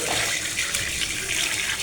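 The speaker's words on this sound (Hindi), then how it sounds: "ये जो कीमा है ये हम इसको धोते हैं, ये धोएंगे" Tap water runs steadily into a sink while minced meat (keema) is washed for a home-cooked dish, a close continuous broadband rush of flowing water with no voices.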